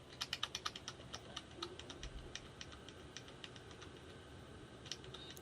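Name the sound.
pressing F12 on a computer keyboard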